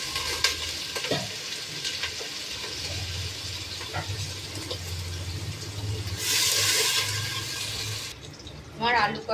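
Diced potatoes and onions sauté in a pan for an egg and potato curry, giving a continuous sizzle with scraping stir strokes and a louder burst of hissing near the end.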